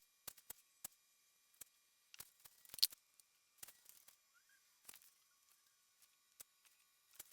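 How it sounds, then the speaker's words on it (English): Scissors snip through material for custom Saab 900 door panel inserts in a quiet workshop, producing sparse, sharp clicks and short cuts with long gaps between them. "Now I'll cut up this way so that way we can overlay the next piece onto here."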